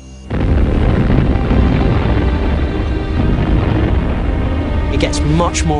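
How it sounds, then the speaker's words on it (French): Volcanic eruption explosions from the Minoan eruption roar as a sustained, loud, dense rumble, with crackling bursts toward the end and no break in the din. "Les explosions ont continué dans un grand fracas."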